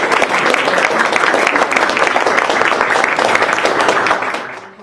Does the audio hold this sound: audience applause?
yes